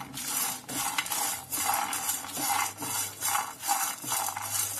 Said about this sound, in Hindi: इसे हम लगातार चलाते हुए ड्राई रोस्ट कर लेंगे।